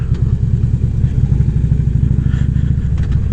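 A motorcycle engine running in cold weather, a loud close rumble with steady clattering pulses throughout and no talking.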